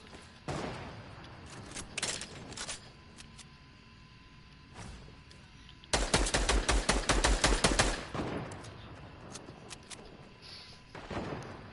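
Shotgun blasts in a PS4 shooter: a few sharp isolated shots early, then a rapid burst of heavy booming fire around the middle, followed by scattered single shots, loud and close with quieter gaps between.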